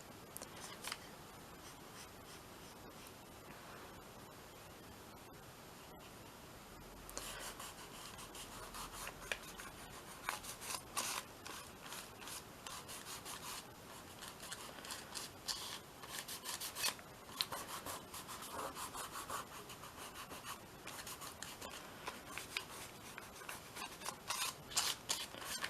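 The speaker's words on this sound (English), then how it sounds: "try out the pencil, the crayons, I think, just to see what they come out like." Pencil and crayons scratch and rub across paper on a mixed media collage, starting after a quiet stretch and then coming in irregular bursts of dry scraping strokes, close and fairly soft.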